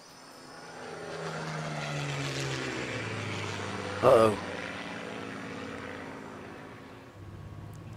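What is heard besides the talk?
propeller plane flying in video game Shadow of the Tomb Raider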